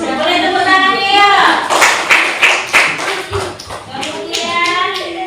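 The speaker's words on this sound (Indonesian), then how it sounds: "Boleh tepuk tangannya ya." Schoolchildren clapping their hands in a fifth-grade classroom in Indonesia, a short burst of loud, close claps in the middle with children's voices speaking and calling out before and after it.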